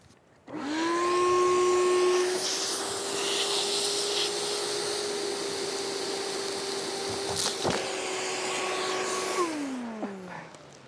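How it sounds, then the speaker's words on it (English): A vacuum running steadily while sucking a pull line through buried conduit, a loud sustained whine that holds for several seconds with a brief rattle partway, then winds down at the end. "it just went right into the vacuum"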